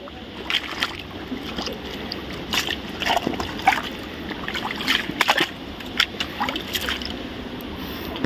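River water splashes and sloshes over rocks in irregular bursts against a steady flowing backdrop, close by, with brief gaps between splashes.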